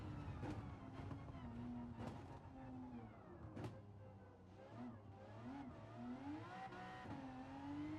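A race car engine in the Gran Turismo 7 video game on PS5 drones steadily throughout, its pitch rising and falling through gear changes and revs. A few sharp clicks punctuate the continuous mid-volume whine.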